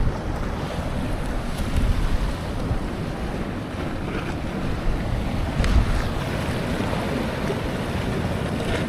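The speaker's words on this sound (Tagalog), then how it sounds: "manood kayo ng napakalalaking mga alon" Large ocean waves roll and crash in a steady roar with heavy wind buffeting the microphone, a continuous dense wash from the shore with no talking.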